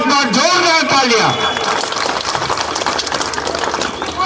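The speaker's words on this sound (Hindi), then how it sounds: "पुनः एक बार जोरदार तालियां।" Crowd applauding at a political rally in Chokhutiya, Uttarakhand, tied to the Gairsain capital movement; loud, dense clapping swells after a man's speech at the opening and continues steadily to the end.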